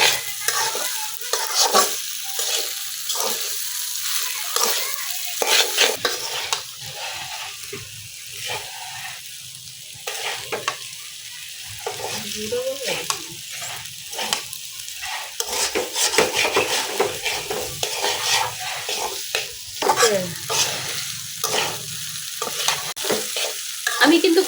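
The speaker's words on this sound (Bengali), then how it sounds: "আমি কিন্তু খুব সুন্দরভাবে আলু আর নুডলসের সাথে ডিমটা মিশিয়ে নিচ্ছি।" Egg is stirred into noodles and potatoes in a hot pan for village-style vegetable noodles: repeated scraping and clattering strokes over a soft sizzle, close and fairly loud, with short pauses between bursts.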